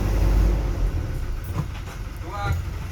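A Damri bus, a Hino RK series, rumbles with a low, steady engine drone at a Type A bus terminal in Kota Langsa, with faint muffled voices nearby.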